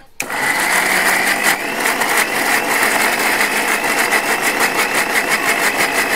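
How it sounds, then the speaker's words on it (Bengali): Mixer grinder blending boiled, cooled spinach for palong luchi, a loud steady whirring motor hum that starts abruptly and runs without a break, with a faint rattling buzz throughout. "পালং শাক ঠান্ডা হয়ে গেছে, এবার মিক্সিতে দিয়ে ভালোভাবে বেটে নেব।"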